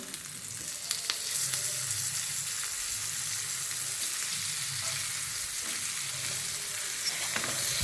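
Slices of suran and brinjal fry in a shallow pan, giving a close, steady sizzle with light crackles and a few faint utensil taps, without any voices.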